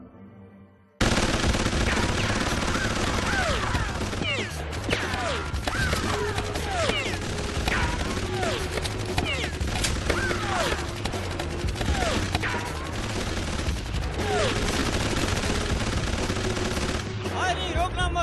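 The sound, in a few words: gunfire in Killer Bean animation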